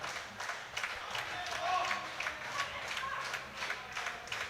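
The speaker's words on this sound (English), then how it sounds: "The crowd is rallying up behind him." Crowd at a junior world classic powerlifting championship rallying behind a lifter during a heavy squat attempt, a rhythmic rising clamor of clapping, stamping and shouts that is loud and sustained.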